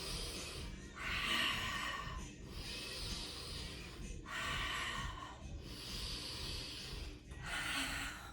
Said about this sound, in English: inhale for 2, exhale for 2